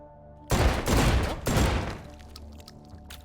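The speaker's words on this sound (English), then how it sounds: "fully automatic drum-fed shotgun" A fully automatic drum-fed shotgun in a video game fires two loud, rapid bursts close up, each a dense cluster of blasts followed by a fading echo, with no talking.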